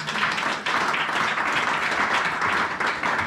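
A church congregation applauds and claps in acclaim of the Lord, a steady, dense wash of clapping that holds at an even level throughout without a break.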